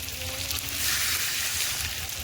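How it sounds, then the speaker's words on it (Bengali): Water tipped into a hot pan of fried pumpkin and potato, a steady loud sizzling hiss that swells in the middle and holds without a break, no voices. "এবার জল ঢেলে দেবো।"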